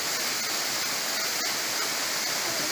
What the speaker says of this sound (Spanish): ahí vemos a Alexander allá a la parte alta de la cascada